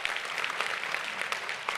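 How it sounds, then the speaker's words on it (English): A small audience claps together for a ticket sales goal of 100 tickets at a confidence and cash flow workshop, a steady burst of close, dense applause lasting under two seconds with no talking. "can y'all clap for her goal?"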